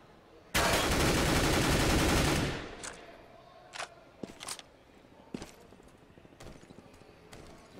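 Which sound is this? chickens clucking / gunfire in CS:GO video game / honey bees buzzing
gunfire in CS:GO video game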